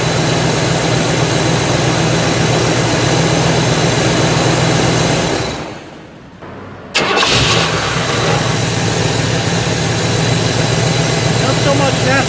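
A Buick engine cranks and idles steadily, then cuts out in a stall; after a brief quiet gap it fires back up with a sharp catch and settles into a loud, even idle.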